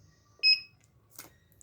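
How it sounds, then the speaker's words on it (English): Security alarm on an RFID-protected exam paper box, triggered by an unauthorized card: a short, loud two-tone electronic beep, followed by a faint click. "wrong RFID card, alarm on."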